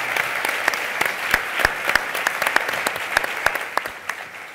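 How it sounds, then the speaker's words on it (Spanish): Audience applause after a conference interview, dense clapping from a seated crowd with distinct sharp individual claps standing out, sustained throughout at moderate loudness. "Un aplauso por esta entrevista."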